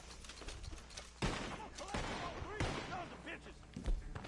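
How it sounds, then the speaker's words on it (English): Scattered gunshots crack out in a tense exchange in the video game Red Dead Redemption 2, several sharp bursts at irregular intervals with voices shouting over the commotion. "The gunshots are coming from that car."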